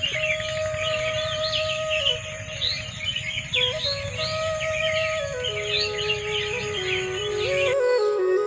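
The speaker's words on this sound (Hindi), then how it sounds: "इन बांस के पेड़ों पे बहुत सारी चिड़िया बैठी गाना गा रही हैं" Many birds sing and chirp together in bamboo trees, a continuous overlapping chorus of calls at moderate distance, with a steady low background hum and no talking.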